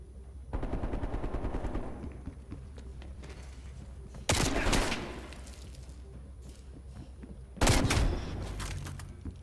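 Call of Duty Cold War gunfight: bursts of rapid automatic gunfire, with two loud sharp blasts standing out over a low rumbling background.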